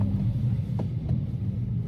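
A used Kia Morning driving, heard from inside as a steady low rumble of engine and road noise with no talk.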